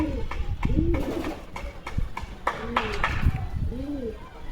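Several pigeons, including a male, coo near by in a loft with soft repeated throaty calls, alongside some wing and shuffling sounds and faint talk.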